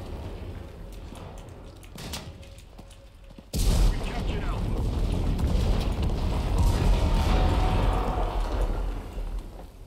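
Gunfire and booming blasts in the World War II shooter game Enlisted during a control point fight, a dense continuous barrage of shots and explosions that swells loudly after a quieter opening.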